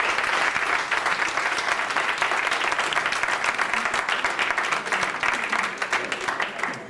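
Loud, sustained applause from a live audience fills a 2003 Urdu poetry gathering in Houston for poet Zia ul Haq Qasmi, dense and steady clapping throughout with no speech over it.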